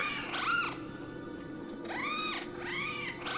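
Close, clear cat meows: one drawn-out call followed by two more in quick succession, loud against a quiet background with no talking.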